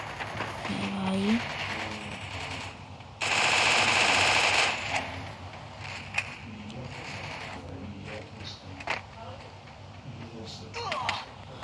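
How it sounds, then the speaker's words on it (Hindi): Gunfire in the battle-royale game Free Fire, including MP40 and distant sniper fire: a loud sustained burst of automatic shots around the middle, with scattered single shots before and after, set among in-game effects and occasional talk. "स्नाइपर चला रहा है कोई, जो भी हो वहाँ इतनी दूर बैठा हुआ है, बमबारी कर रहा है।"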